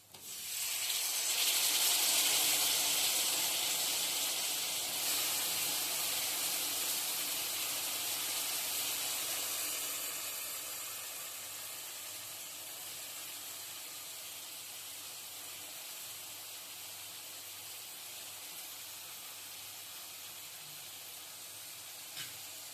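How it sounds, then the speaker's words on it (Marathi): Cut potato and cabbage hit a hot pan with turmeric, setting off a loud, steady hiss that eases after about ten seconds into a softer, continuous sizzle, with no voices. "ह्याच्यामध्ये आपण बटाटा जो कापून घेतलेला तो आणि कोबी हे टाकून घेऊ"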